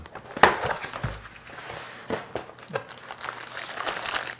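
Plastic wrapping on a mechanical keyboard crinkles and crackles up close in irregular bursts, a dry rustling texture that keeps going without any talking.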